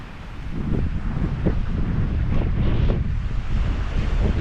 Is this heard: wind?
yes